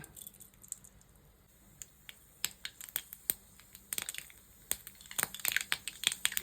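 Sharp, irregular pops and crackles of mustard seeds bursting in hot oil in a frying pan, growing denser toward the end; no voices.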